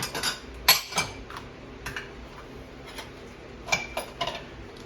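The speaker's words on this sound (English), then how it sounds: "let me get these dishes out of the way" Dishes and cutlery clatter in a home kitchen as they are moved and cleared away, scattered sharp clinks and knocks coming close and fairly loud, without talk.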